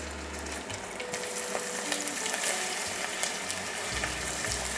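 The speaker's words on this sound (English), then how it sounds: "Hot pan, high smoke point neutral oil, beef goes in." Evenly cut beef chunks sear in a hot pan of high smoke point neutral oil, a dense, steady sizzle close up with faint clinks and scrapes and a low hum underneath, no talk.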